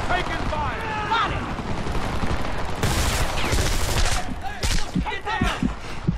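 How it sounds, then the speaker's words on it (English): Heavy gunfire in the shooter game Homefront, a dense, continuous run of rapid shots and blasts at close range, with voices shouting over the din. "Taking heavy fire!"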